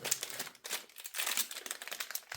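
A small packet of salted peanuts is crinkled close by: continuous soft rustling and crackling plastic for a couple of seconds, faint, with no talk.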